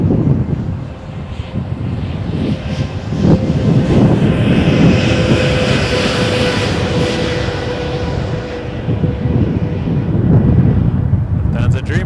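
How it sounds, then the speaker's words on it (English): A Boeing 787 Dreamliner airliner passes an airport, its broad engine roar swelling and holding steady over wind buffeting the microphone, with voices talking over it. "That's a Dreamliner."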